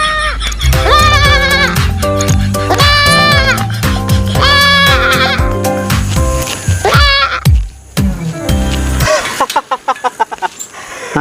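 A goat bleats loudly and up close, giving a run of repeated wavering cries with short gaps between them. Some fainter background sounds follow near the end.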